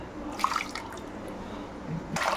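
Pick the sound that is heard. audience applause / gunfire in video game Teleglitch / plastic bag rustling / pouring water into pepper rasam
pouring water into pepper rasam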